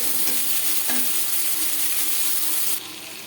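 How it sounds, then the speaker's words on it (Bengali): Prawns fry lightly in a pan for chingri malaikari, a loud, steady sizzle that runs throughout and drops noticeably quieter just before the end, with no talking. "মাছ আমি হালকা করে ভেজে নেব।"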